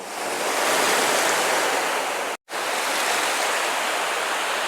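Sea waves at Tannirbhavi Blue Flag beach in Mangaluru, a loud steady wash of surf filling the whole stretch, broken only by one abrupt, momentary silence midway.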